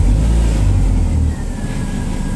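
A Dodge Neon engine runs steadily in drive with the front wheels spinning freely, a loud low drone close by that eases slightly halfway through.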